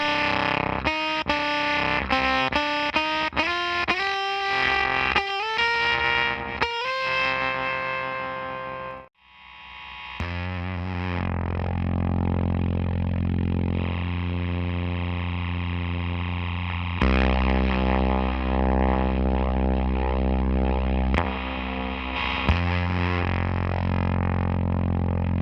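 Electric guitar played through a Lurch Audio Sorghum Fuzz pedal, a loud, noisy fuzz: quick picked notes first, then a short cut-out and long sustained distorted chords with glitchy octaves and warbling harmonics.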